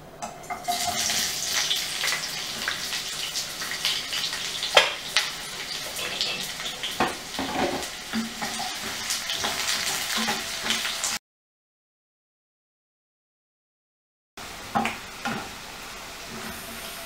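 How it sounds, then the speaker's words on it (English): Onions sizzle and spit as they are added to hot oil and stirred, a close, busy crackle with scraping strokes and clinks, a short silent gap, then more frying. "As the oil is hot, we're going to add these onions."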